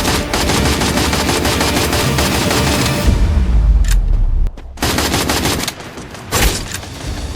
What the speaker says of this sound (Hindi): मुझे फायरिंग की साउंड आती है